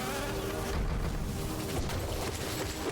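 Bees buzzing in the video game Hollow Knight, a steady, continuous insect drone over a low rumble that holds evenly throughout with no voices.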